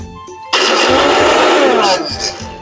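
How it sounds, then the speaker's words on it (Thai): A blender making fishing bait switches on abruptly and whirs loudly and steadily for about a second and a half, then winds down as its motor slows. "อันนี้เครื่องปั่นนะฮะ"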